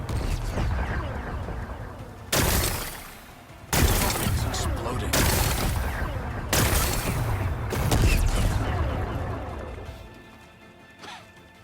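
Rocks blasted apart in Horizon Forbidden West, a series of loud bursting booms and crashes at regular intervals, each followed by rumbling debris, with a voice talking over it.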